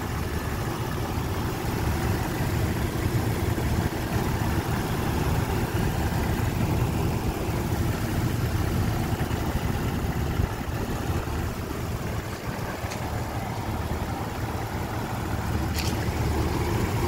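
A 2002 Jeep Wrangler Apex engine idles steadily with the hood up, a continuous low rumble holding even throughout with no voices.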